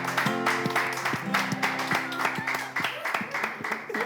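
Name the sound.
audience clapping for Yannicka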